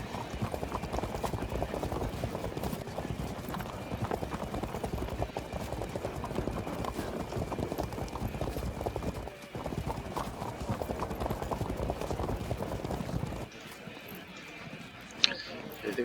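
Horse hooves clip-clopping in the strategy game Field of Glory II, a dense steady clatter for most of the stretch, with a faint whinny, then dropping away near the end.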